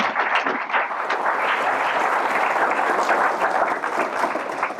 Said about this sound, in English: Please join me in giving Shayna Moon a round of applause